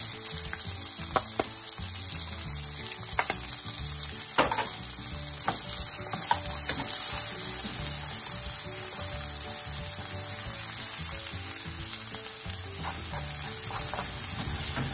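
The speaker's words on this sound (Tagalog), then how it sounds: "Saute the garlic at onion." Garlic and onion sauté in cooking oil for pork binagoongan, giving an even, steady sizzle that runs the whole time, with light stirring clicks scattered over it.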